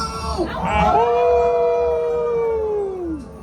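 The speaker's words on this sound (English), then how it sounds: "let's hear Howling Wolves and go!" A long, rising then slowly falling howl from a canine, loud and near, with a couple of yips at the start and fainter howls blending in.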